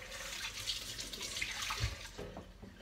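Hot water is poured into a red cup to warm it before brewing with an AeroPress, giving a quiet, steady watery rush that runs for a few seconds and then tapers off.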